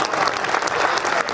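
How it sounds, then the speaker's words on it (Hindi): Audience applause at a Hindi comic poetry gathering, an all-India kavi sammelan in Anuppur: dense, steady clapping from a crowd that fills the whole stretch without pause. "अगर अच्छा लग जाए तो फिर आपकी झूमती हुई तालियां उठे।"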